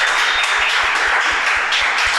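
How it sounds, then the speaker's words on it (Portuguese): An audience applauds together at a live podcast recording, a dense and steady wash of clapping that lasts throughout, with no voice on top. "A Fran merece uma salva de palmas"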